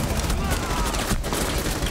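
Gunfire in the tactical shooter Rainbow Six Siege, a rapid burst of automatic shots rattling over two seconds with a dense, loud crackle.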